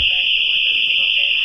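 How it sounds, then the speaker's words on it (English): A home security alarm blares a piercing, continuous high-pitched tone without pause in the early morning, with muffled voices faintly underneath. "We can't get the alarm to turn off."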